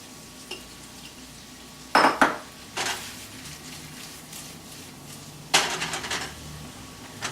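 Julienned onions, about a cup, go into oil and butter in a pan, setting off two sharp bursts of sizzling and clatter that fade back to a low background, with no talking.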